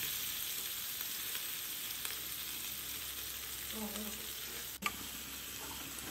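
Prawns dropped into hot oil in a home kitchen pan, a steady soft sizzle and crackle throughout with a short clatter of a utensil near the end.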